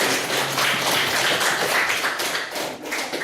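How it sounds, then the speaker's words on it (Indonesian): A classroom group claps for students who have just presented: steady, dense applause from many hands lasts about three seconds, with no voices. "mari kita berikan aplaus kepada kelompok 3"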